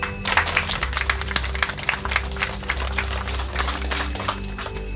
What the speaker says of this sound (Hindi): सभी को ताली बजा के हम लोग उसको धन्यवाद देंगे